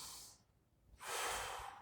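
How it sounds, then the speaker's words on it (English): A deep inhalation taken during an exercise workout, a single loud breathy rush after a brief pause, close to the mic with no talking. "Repeat big, I should say, deep breaths. Big breath in,"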